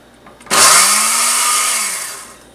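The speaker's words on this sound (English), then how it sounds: "We're going to blend that up." A kitchen blender whirs up garlic mashed cauliflower, switching on abruptly into a loud, steady motor roar with a slightly falling pitch, running close and alone for about two seconds before easing off.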